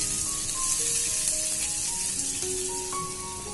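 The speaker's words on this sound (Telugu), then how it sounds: "ఆయిల్ హీట్ అయ్యాక ఒక పెద్ద సైజ్ ఉల్లిపాయని చిన్న చిన్న ముక్కలుగా కట్ చేసుకుని వేసుకోవాలి." Chopped onions fry in hot oil in a pan with a soft, continuous sizzle and light crackle that holds steady at moderate loudness, close up and free of speech.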